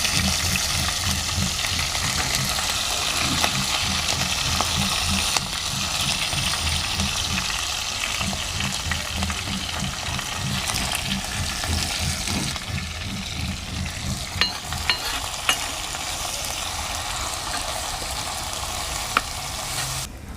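Crushed ginger and garlic fry in a pan, a continuous loud crackling sizzle with occasional clicks of stirring, close and steady for the whole stretch, no voices.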